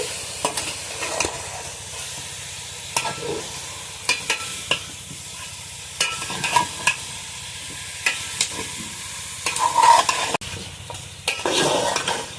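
Mutton cooking without oil in a pot on a stove sizzles softly while a spoon scrapes and stirs it in repeated short strokes, with a louder clatter of stirring toward the end and no talking.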